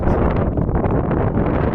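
Strong wind on a highland plateau buffets the microphone in a loud, continuous roaring rumble.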